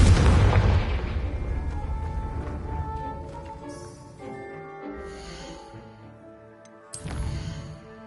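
A spell blast goes off in a Harry Potter video game, opening with a loud booming explosion that rings out and decays, followed by scattered smaller pops and a second sharp burst near the end.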